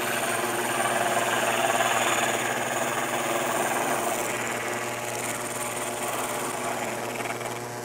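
A power tool cutting a wooden guitar neck, held firm at the tenon and peg head ends, giving a continuous, even mechanical whir with buzzing overtones, steady and close throughout.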